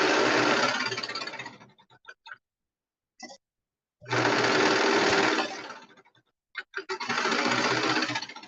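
A sewing machine stitches a color block hoodie, running loud and close in two long steady bursts with short pauses and a few brief starts between them.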